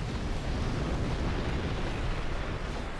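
Explosions from a raid boss mechanic in Final Fantasy XIV, a savage Arcadion Light-heavyweight fight: a continuous heavy rumbling roar with no distinct separate blasts, steady and fairly loud throughout.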